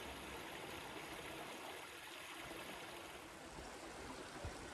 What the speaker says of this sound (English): I can listen to water flowing all day long